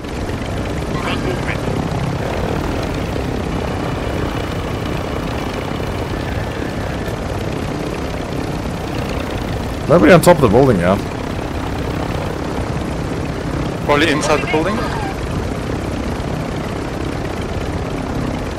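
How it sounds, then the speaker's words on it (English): A helicopter in Call of Duty DMZ drones steadily throughout, a loud, continuous rotor and engine hum. Players talk briefly over it, and two sharp bursts of noise stand out about halfway through. "Guys, there's another helicopter."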